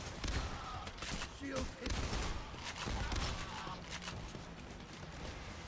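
Several sharp shotgun blasts in the heist shooter PAYDAY: The Heist, spaced irregularly amid chaotic in-game combat noise, with a voice talking over the gunfire.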